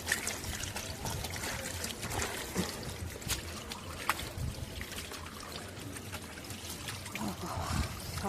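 Water pours and trickles over wet, muddy socks being rinsed outdoors, a steady splashing flow with scattered drips, moderately close, with voices talking faintly underneath.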